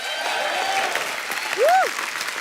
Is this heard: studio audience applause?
yes